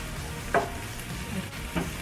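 Garlic frying in a pan, a soft steady sizzle with two brief stirring scrapes, close and moderately quiet, with no talking.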